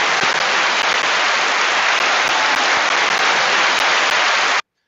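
A recorded crowd cheer and applause effect triggered from new streaming gear, a steady dense roar of clapping and cheering that runs loud and unbroken for several seconds, then cuts off abruptly.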